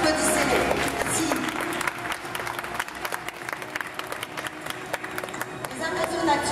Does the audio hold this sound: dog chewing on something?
no